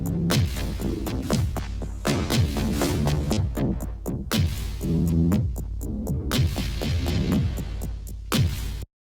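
Ableton audio on a duplicated track, warped in Tones mode and transposed up an octave, plays as a dense rhythmic musical loop with punchy low-end hits and bright transient accents, steady and loud throughout before cutting off abruptly at the end.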